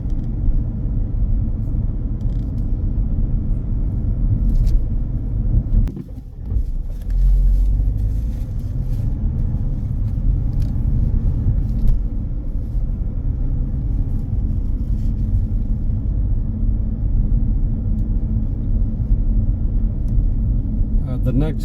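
A car drives along a Huddersfield road during a driving test, heard from inside as a steady low engine and road rumble with a brief dip partway through.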